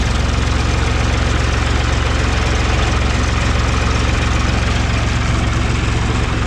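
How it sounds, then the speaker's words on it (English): A John Deere backhoe loader's heavy diesel engine idles steadily and loudly up close, a constant low rumble with a fine rapid knock and no change throughout. "So we're gonna let it idle for a little bit."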